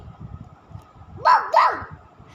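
A human voice imitates a dingo dog barking, giving two quick, loud, close bark-like yelps in a row over quiet background murmur.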